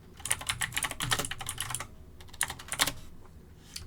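Someone types on a computer keyboard while entering a label in GrandMA3 lighting console software, giving close, irregular bursts of key clicks with short pauses between them.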